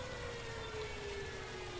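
A Jericho trumpet siren on a Stuka dive bomber slowly drops in pitch as it winds down with falling airspeed, fairly faint against a constant background hum.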